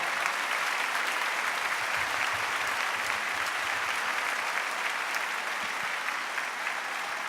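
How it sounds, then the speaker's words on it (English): Sustained applause from a convocation audience fills the room, dense and steady throughout with no pauses. "Let's give him a round of applause."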